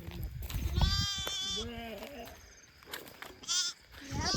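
Sheep in a field bleat several times, wavering calls close by that overlap one another, with some rustling and a human voice in the background.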